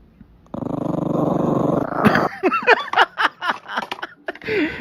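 A dog gives a steady, deep growl up close, then breaks into a run of sharp yips, snarls and barks.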